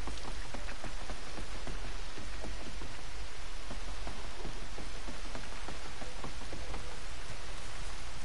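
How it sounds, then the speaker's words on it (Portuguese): Heavy rain pours steadily in the video game Red Dead Redemption 2, a dense, constant hiss of drops drumming on surfaces, loud and unbroken throughout. "Nossa, que chuva grossa!"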